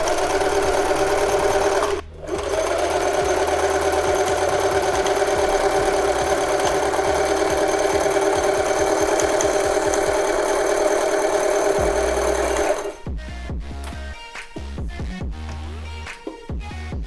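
Domestic sewing machine stitching a buttonhole, running steadily and loudly for about eleven seconds with one brief pause near the start, then breaking into short stop-start bursts toward the end.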